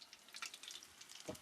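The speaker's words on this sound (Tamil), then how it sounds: "சிக்கன் வந்து பொரிச்சுட்டு இருக்கு." Quiet, crackly sizzle of chicken frying in a pan, faint and steady, with a soft thump near the end.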